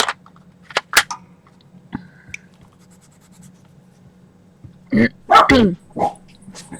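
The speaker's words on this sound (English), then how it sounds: "Sorry about the barking." A dog barks a few times in sharp bursts, with a short cluster of louder barks near the end over a quiet background hum.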